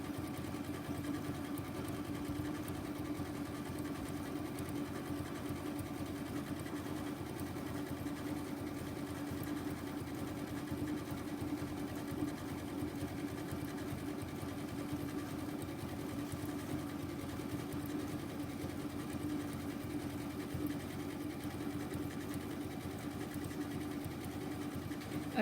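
A longarm quilting machine stitches circles with a steady, continuous mechanical hum and fast needle rattle, even in level for the whole stretch with no talking.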